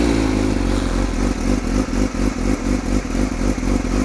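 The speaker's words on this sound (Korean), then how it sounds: "공회전을 살짝 하고요." A Yamaha R6 sport bike idles steadily on a rear stand during an engine oil change, its close, loud engine note holding an even, throbbing rhythm with slight mechanical clatter throughout.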